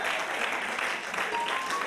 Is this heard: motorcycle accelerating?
no